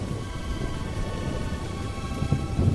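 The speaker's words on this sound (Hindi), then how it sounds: "कुछ देर में बारिश छूट जाएगी" Rain and thunder in a cartoon storm: a steady hiss of falling rain over a deep, continuous low rumble that swells slightly toward the end.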